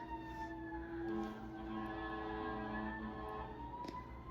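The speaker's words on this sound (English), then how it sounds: "Ignore the ambulances." Ambulance or fire truck sirens wail faintly in the distance, their wavering tones drifting over a quiet background hum.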